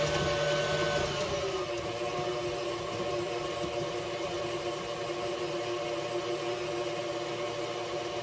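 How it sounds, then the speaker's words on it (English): An electric stand mixer runs steadily at a slightly raised speed creaming butter and sugar for blueberry muffins, a constant close whirring motor hum with no pauses and no talking. "I'm going to turn the speed on my mixer up just a little bit."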